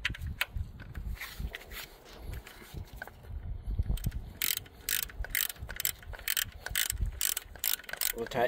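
Ratcheting wrench tightening the nuts on a Humvee (HMMWV) water pump during its replacement, heard as bursts of quick metallic clicks separated by short pauses over faint shop noise, close and fairly quiet.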